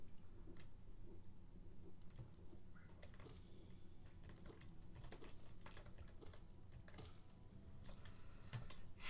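Computer keyboard keys clack in quick irregular bursts during gameplay of Hollow Knight, with faint background game sound underneath; the tapping is close but quiet and continues without speech.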